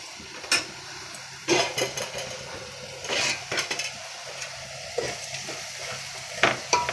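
Onions fry in a pan for coconut palya, a soft continuous sizzle with a spoon stirring and scraping against the pan in irregular clinks, close up.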